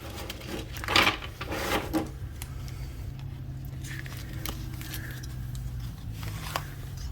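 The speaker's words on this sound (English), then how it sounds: "All right, let's shuffle this and see what we get." An Enchanted Romance tarot deck with Pre-Raphaelite art is shuffled close by, giving a few soft card riffles and taps over a steady low background hum.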